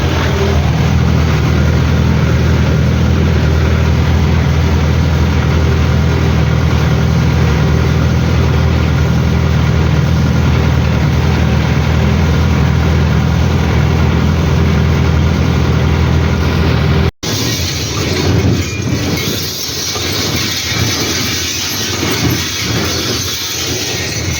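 A tractor engine idles loudly with a deep, continuous rumble beside a Sipma Z224/1 hay baler, then the tone shifts to a rougher, pulsing chug near the end.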